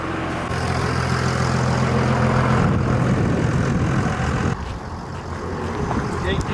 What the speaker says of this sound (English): You feel that generator again?